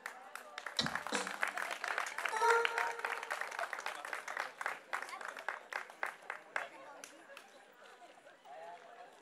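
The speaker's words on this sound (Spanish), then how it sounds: "Fuertes esos aplausos." Scattered applause at a quinceañera party, irregular claps and crowd chatter spread across a room, with a brief loud thump near the start and the clapping thinning toward the end.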